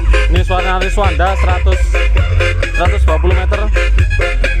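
Loud dangdut music plays from the Rizwanda sound system about 120 meters away, a dense, continuous mix of heavy booming bass, drums and melodic vocals and instruments that fills the whole stretch without a break.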